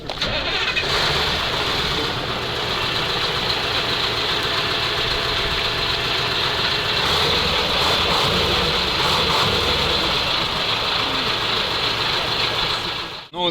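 Engines of KamAZ 4310 trucks at a retro truck, bus and tractor show start up and idle together, a dense, continuous low rumble that stays loud and steady throughout with faint voices beneath.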